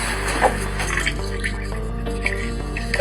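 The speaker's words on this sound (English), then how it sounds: "This is our cold water pressure in the kitchen." Cold water runs steadily from a kitchen faucet at weak pressure, a continuous close splashing stream with small drips, heard alone without talk.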